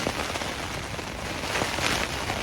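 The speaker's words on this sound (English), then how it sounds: "We're getting a lot of rain now." Heavy rain pounds steadily on a Jack Wolfskin Yellowstone 2 tent during a strong storm, a dense, loud, continuous hiss of drops heard from inside without pause.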